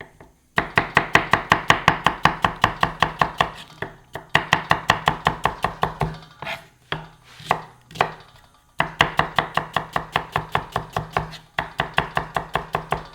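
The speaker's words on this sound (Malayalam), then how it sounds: "ഒരു സവാള രണ്ടായിട്ട് പിളർക്കുക, എന്നിട്ട് ഇങ്ങനെ മൂന്നായിട്ട് അരിയുക." A knife chops an onion into chunks on a board, crisp rapid strokes in steady bursts of knocks separated by short pauses, close and loud with no talking.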